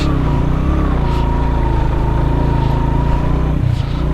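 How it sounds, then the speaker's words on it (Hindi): A motorcycle engine labors steadily as it struggles to climb a steep mountain road toward a hilltop on a road trip in Kumrat Valley, droning loud and continuous with slight revving swells. "ये मोटरसाइकिल ऊपर नहीं जा रहा"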